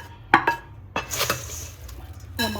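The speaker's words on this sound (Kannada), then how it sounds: "ಸೊ ಇವಾಗ ಈ ಮಸಾಲಾನ ಹಾಕಿ ಮಿಕ್ಸ್ ಮಾಡ್ಕೋತಾ ಇದ್ದೀನಿ" Masala mixed into bhel puri in a bowl, producing a few close clinks and scrapes of a spoon against the bowl with short gaps between them, loud and alone.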